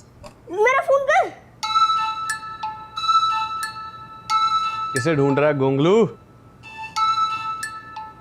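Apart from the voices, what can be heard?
mobile phone ringtone ringing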